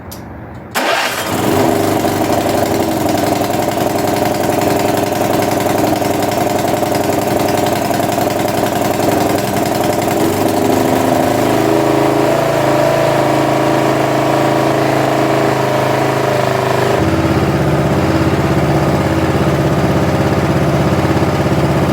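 A John Deere riding lawn mower, a curb find under repair, cranks briefly and then fires, settling into a loud, steady running engine that holds for the rest of the time and shifts pitch slightly near the end.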